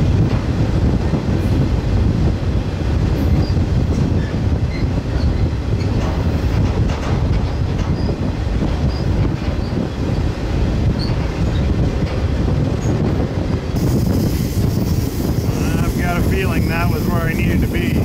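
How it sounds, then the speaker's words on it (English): A loud, steady rumble of a freight train rolling on rails from Galesburg, heard from aboard, continuous throughout, with a faint rhythmic clatter in the background. "hopefully I'll feel the train make like a big right turn up here"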